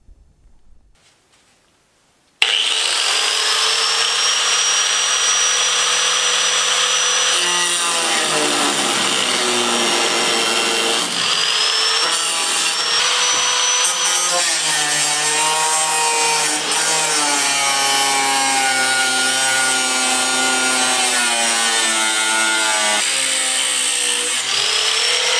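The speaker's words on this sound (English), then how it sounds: "I'm going to take a cutoff wheel, and to start off, I'm just going to cut a little bit of this out" Cutoff wheel grinding through rusty sheet metal on a Datsun 510 during patch panel repair: a loud, continuous high-pitched whine that starts abruptly after a quiet moment and keeps going with shifting pitch as the wheel bites, with no talking.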